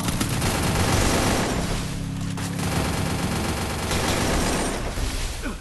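Sustained heavy gunfire in a shooter game where an M82B rifle is used, a continuous loud rattle of rapid shots and bursts filling the whole stretch with little pause.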